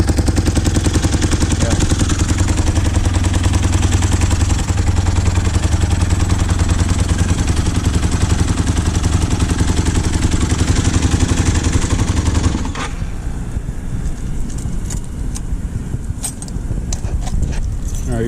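A motorcycle engine idles steadily with a fast, even ticking from an exhaust leak. The loud, close running drops to a quieter, rougher idle near the end.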